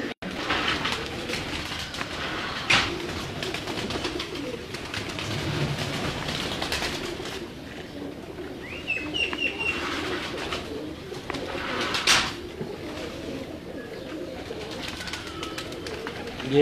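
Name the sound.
pigeons cooing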